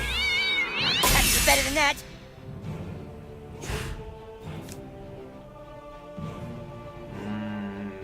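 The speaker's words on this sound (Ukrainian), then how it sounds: "О, киця!" A cat meows in South Park: The Stick of Truth, with several drawn-out wavering mewls and caterwauls, loud at first and then softer and repeated, mixed with game sounds.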